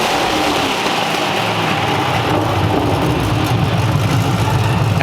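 A Ford Mustang GT with a 4.6L V8 idles steadily up close, a deep, continuous low rumble with a slight rough pulse throughout and no voices.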